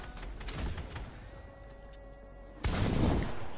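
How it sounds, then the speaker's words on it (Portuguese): A quick burst of sharp gunshot cracks in Fortnite, followed by a quieter stretch with a thin tone, then another loud blast near the end. "eu tirei um tiro no ar"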